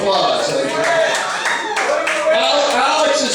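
Audience claps loudly and steadily at a nightclub-style show, cheering for a best-dressed contestant, with voices mixed into the clapping throughout.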